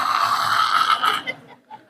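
A voice imitates loud snoring, a single long rasping inhaled snore followed by a short trailing snort, close and prominent.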